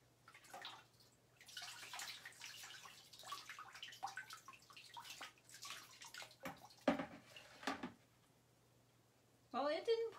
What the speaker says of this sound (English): So let's see how it rinses.